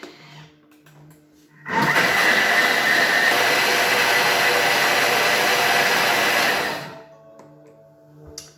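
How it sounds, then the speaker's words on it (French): Gazpacho whirring in a blender at top speed 10: a steady, loud, continuous motor roar that starts abruptly, runs about five seconds and then winds down, with quiet room sound before and after. "Et on va mixer le tout 1 minute à vitesse 10 pour que ce soit bien mixé."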